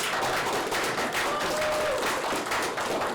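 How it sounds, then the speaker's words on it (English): An audience applauds continuously, a dense, even wash of many hands clapping throughout. "Can we give a round of applause to Julie?"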